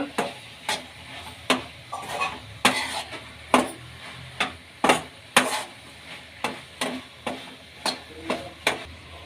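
A spoon scrapes and knocks steadily against a pan while spices and chilli powder are mixed for soy bhurji, with a faint sizzle under roughly regular stirring strokes.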